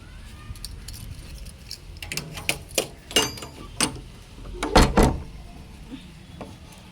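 Keys jangle and clink in a few short metallic bursts as a door is locked at home on a rainy day, fairly close and with no talking.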